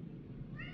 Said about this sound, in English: See, my cat's giving you a warning.